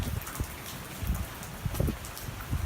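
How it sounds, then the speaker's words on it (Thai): Steady rain patters and hisses throughout at Mandalay Palace, with scattered low thumps of drops hitting nearby surfaces; no talking. "วันนี้ฝนตกมากไม่มีร่ม"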